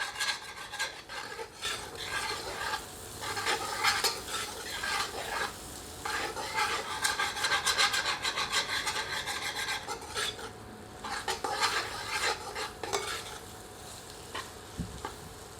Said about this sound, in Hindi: एक बार अच्छी तरह करछी चलाते हैं।